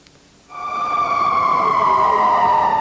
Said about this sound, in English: Police sirens in the United States echo around the world